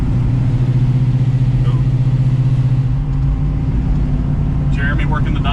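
A 1978 Dodge D150 Warlock pickup with a 470-cubic-inch big block V8 cruises with a loud, steady low rumble, the engine note shifting partway through as revs change.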